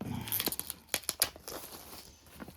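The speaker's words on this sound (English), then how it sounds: "I slit it along there" A blade slits the cardboard of a Wingspan board game box open, with crisp tearing and crinkling rasps and a few sharp snaps, close and fairly faint, under a voice speaking briefly.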